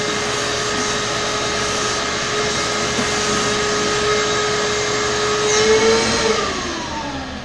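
A cheap $35 Harbor Freight trim router runs steadily as it cuts, a loud continuous motor whine with a sustained high tone that dips in pitch near the end as the bit bites, with no talking.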